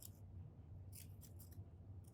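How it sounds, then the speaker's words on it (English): Serrated scissors snip paper in several quick crisp cuts, close and faint, in a short irregular series with no voices. "Use those scissors to create little"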